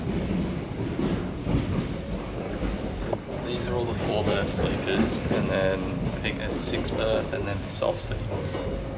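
A moving sleeper train rumbles steadily with faint rail clatter and an air-conditioning hum throughout the carriage, and indistinct voices and small knocks sit in the middle distance.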